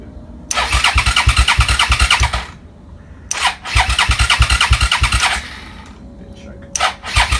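A Suzuki SV650 motorcycle with freshly rebuilt carburettors cranking on the starter in two long runs of rhythmic churning, then a brief third attempt, loud and close, with short quiet gaps between.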